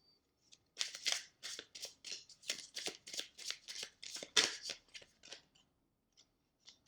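Oracle cards are handled and shuffled close by in a quick run of crisp, rhythmic riffling bursts that thin out to a few faint taps at the end.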